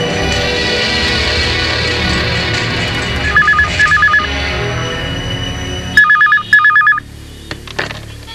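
A telephone rings in bursts of electronic trills, two short pairs then louder repeated rings near the end, over a busy background of music and ambience with no talk.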